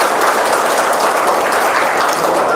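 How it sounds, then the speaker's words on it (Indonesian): Loud, sustained applause from an audience on a talk show, a thick continuous wash of clapping with no break and no talk over it. "Tepuk tangan dong."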